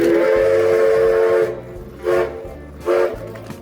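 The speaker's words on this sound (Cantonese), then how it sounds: "咁啱俾我哋見到蒸汽火車大樹嘅真身" Steam whistle of the SL Taiju steam locomotive in Tochigi, Japan: a long loud blast followed by two short sharp toots, with low rumbling of the train beneath.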